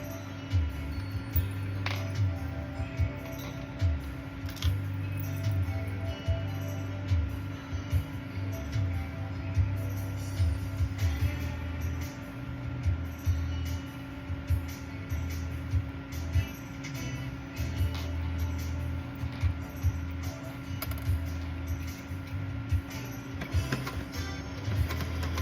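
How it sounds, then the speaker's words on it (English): Sewing machine zigzag stitching on a DIY gift: a steady, fast mechanical ticking with a low motor hum, running continuously at moderate volume. "I'm going to zigzag that right there, to stitch that"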